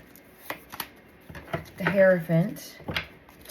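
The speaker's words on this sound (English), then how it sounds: "This one doesn't want to shuffle." A deck of tarot cards is shuffled by hand, a brief burst of riffling and sliding card noise under a person talking nearby.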